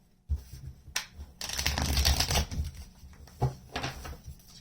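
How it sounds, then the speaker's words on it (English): Tarot cards shuffled by hand in a quiet room, a short riffle burst followed by a longer run of dense, crisp paper flutter and a few quick snaps and taps, close and moderately loud. "Let's do one more shuffle."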